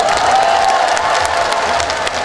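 An outdoor crowd at a Korean pumba folk festival performance applauds and cheers in a dense, loud wash of clapping and shouting that fades slightly at the end.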